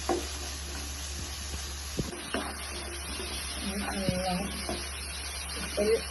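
Onions with turmeric powder sautéing in a pan for macaroni, a soft sizzle with occasional scraping stirs, heard under a person talking.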